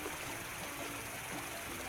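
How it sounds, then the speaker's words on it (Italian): A cartoon water jet sprays a car at a car wash, a steady hissing rush of water running unbroken and fairly faint. "Un getto d'acqua per rimuovere il primo strato di polvere e sporco."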